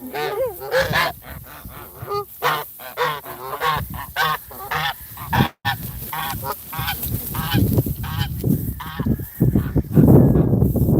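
Pretty Bird, a pet goose, honks over and over in loud, close, rapid bursts at a pond outing, with other geese joining in a noisy chorus and no talking.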